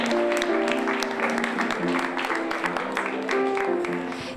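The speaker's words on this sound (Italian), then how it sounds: "vorrei coinvolgere tutti quanti in un applauso" Applause from an audience at a televised Italian event, dense clapping that stays loud and even for a few seconds over a sustained musical tone.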